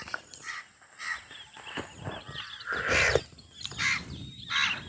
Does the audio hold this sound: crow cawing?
yes